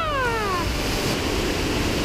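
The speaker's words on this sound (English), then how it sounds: "the waterfall you can see behind us is really, really loud" Steady broadband roar of a loud waterfall in Zion National Park, constant and close, with a short cat-like meow sliding downward over it during the opening half second.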